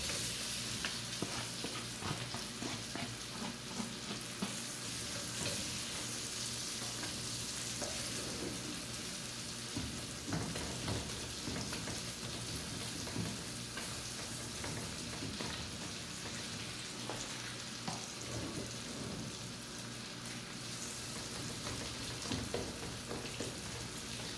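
Onions frying in a pan for sausage and seafood rice, a steady dense sizzle with crackling that runs unbroken for the whole stretch, even and moderately close, with no talk.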